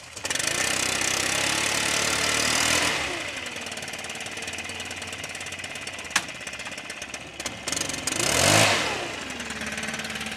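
A gas leaf blower roars loudly during a fall yard cleanup, a sustained high whooshing engine note that drops to a lower idle hum, then surges briefly again near the end, with no talk.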